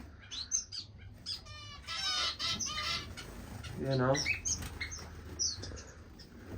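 Finches chirp and twitter in a bird room, a mix of rapid trills and short tweets near and far, with someone talking briefly over them.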